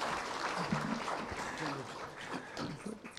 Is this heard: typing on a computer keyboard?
no